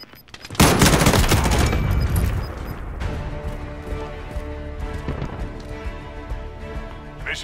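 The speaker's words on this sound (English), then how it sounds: "Friendly sentry gun online." Automatic sentry gun fire in Call of Duty: Modern Warfare: a loud, dense burst of rapid shots lasting about two seconds, then fading into a quieter bed of tonal game music and ambience.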